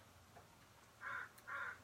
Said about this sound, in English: I can hear this crow walking back and forth